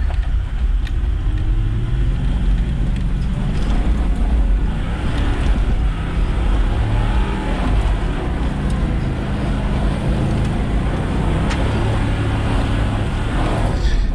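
A 4x4 on full throttle slides backwards on the wet, muddy Billy Goat Bluff Track in January rain, its engine a steady, loud, low roar mixed with wind buffeting, with no talking.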